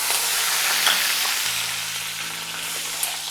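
Crushed garlic, dried red chillies and curry leaves frying in hot oil, a bright, dense sizzle that crackles steadily and close, with faint stirring underneath and no voices.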